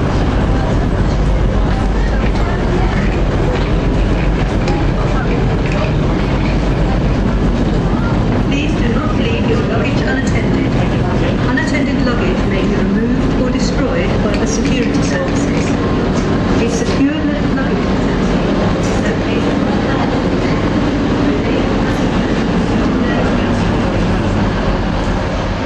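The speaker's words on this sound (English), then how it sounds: "the Class 142 Pacer buses, as I film while leaving Manchester Piccadilly." Class 142 Pacer diesel railbus pulling out of Manchester Piccadilly, a continuous loud rumbling engine roar with rattling carriage noise heard from on board.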